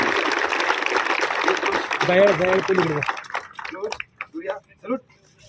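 A crowd at a Satara district police ceremony gives loud applause for Surya, a gold-medal-winning police dog. Dense, steady clapping runs for about three seconds, then fades as a voice speaks over the sound system.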